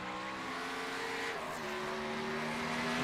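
A race car out on the track during qualifying at Watkins Glen, heard from a distance as a steady, fairly faint engine drone with a shifting pitch that holds throughout.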